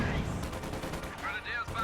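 Gunfire and grenade blasts crackle through a video game battle in a dense, continuous barrage, heard at moderate distance, with a voice partly over it.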